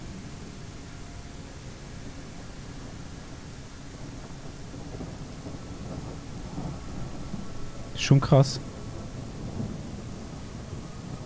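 Rolling thunder and steady rain from a thunderstorm in the dinosaur survival game The Isle, in a swamp with lightning over a distant mountain; a low rumble builds under light talk, with a sharp crack near the end.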